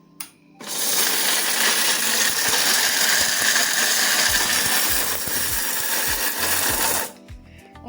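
An Atomberg Zenova mixer grinder runs on coarse mode for about six seconds, a loud, dense whirring and rattling grind that starts and stops abruptly, with no talking.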